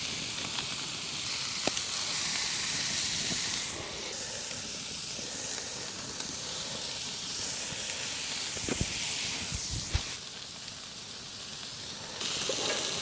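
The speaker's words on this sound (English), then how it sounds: "we'll throw some bacon on this bad boy" Bacon sizzles over a campfire outdoors at a truck campsite, a steady close hiss and crackle with occasional sharper pops and small knocks.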